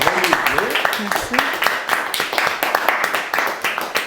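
Audience applause closes a lecture on Astolphe de Custine: dense, steady clapping fills the whole stretch while a voice talks over the start.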